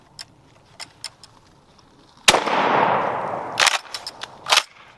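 A UTS-15 or M&P 12 bullpup pump shotgun loaded with 3-inch shells fires one loud, sharp blast that rings out, set among scattered light mechanical clicks and clacks before and after.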